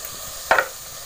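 Chopped tomato drops into a pan of hot oil and biryani masala for egg biryani, giving one short, sharp burst of sizzle and spatter over a soft background hiss.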